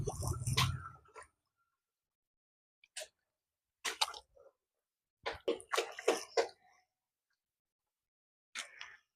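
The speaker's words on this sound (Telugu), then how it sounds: "ఇట్లా మునిగినంత వరకు నీళ్ళు పోసుకొని కొద్దిసేపు అయితే నానాలి" Water is poured over potter's clay to soak it, giving soft splashing and sloshing in short separate bursts with quiet gaps between pours.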